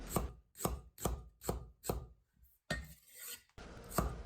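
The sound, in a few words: knife slicing carrot for scallion oil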